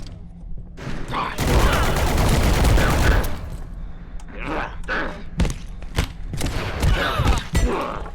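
Rapid SMG fire from the video game Abiotic Factor, a long loud burst followed by shorter bursts and scattered single shots, close and dense with impacts.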